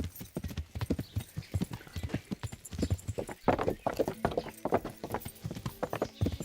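Horse hooves clip-clop in the medieval video game Kingdom Come: Deliverance, a brisk irregular rhythm of hoof strikes heard close throughout.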